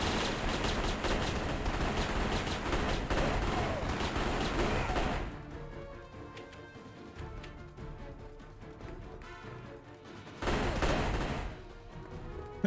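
Gunfire in the 007: Blood Stone video game on the Nintendo DS: dense, rapid bursts of shooting fill the first few seconds, then drop to sparse scattered shots before another loud burst near the end.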